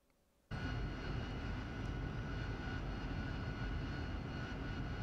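An AV-8B Harrier jet in the DCS flight simulator on a Nevada runway: after half a second of near silence a loud, steady engine roar kicks in abruptly and holds for the rest of the clip, with a high whine on top.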